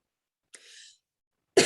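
A single short cough sounds from someone with a sore throat, then there is silence and a sharper, louder cough or throat burst right at the end, close and alone.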